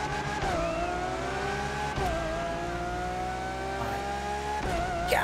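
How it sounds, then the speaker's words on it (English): A Lamborghini Countach engine in the racing game The Crew Motorfest revs high and steady, rising through gear changes with brief dips between shifts, loud and close with no talk over it. "I'm gonna buy this just for the engine sound alone."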